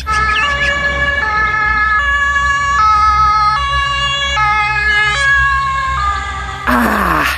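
A toy ambulance siren wails in repeating two-tone cycles, loud and close, with a brief electronic crackle at the end.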